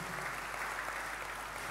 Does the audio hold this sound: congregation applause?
yes